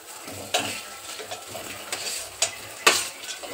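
Potatoes tipped into a hot pan and stirred for bread vada filling, giving a steady sizzle with sharp scraping and clinking of a spoon against the pan at irregular moments, close and alone with no talking.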